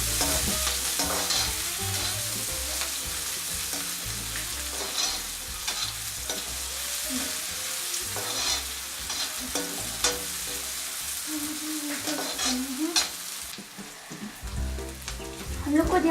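Onion fries in a pan for Maggi noodles with a dense, continuous sizzle and crackle, stirred now and then with scraping clatters, close and steady throughout.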